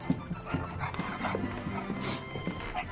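A dog whimpers and yips in short bursts across a film scene, the soft whines and faint pants rising over low background music and room sound.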